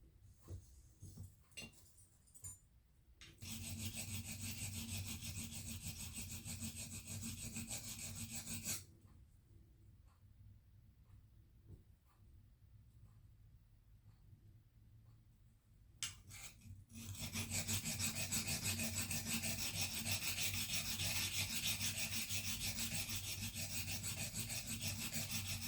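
Steel blade stroked back and forth across a sharpening stone wetted with lapping fluid, using a Trend sharpener kit; long steady rasping passes separated by quiet pauses, close and moderately loud.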